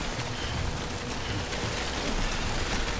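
Continuous heavy rain in the video game Death Stranding hisses evenly for a few seconds, a dense, steady downpour with no other sounds.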